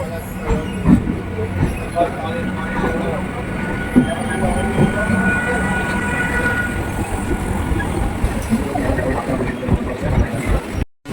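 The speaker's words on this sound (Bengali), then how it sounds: "তো এই দেখো, ট্রেনটি ছেড়ে দিয়েছে।" A 12-coach local train departs Sealdah for Krishnanagar, giving a continuous rumbling, clattering ride noise heard from inside, with faint background voices and occasional knocks throughout.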